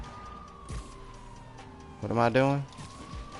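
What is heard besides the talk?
police car sirens in video game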